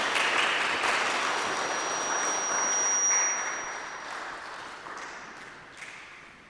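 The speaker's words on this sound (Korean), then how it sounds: "우리 박수로 환영하겠습니다." A church congregation claps during a Sunday worship service to celebrate a member's seventieth birthday, a steady wash of applause that gradually fades.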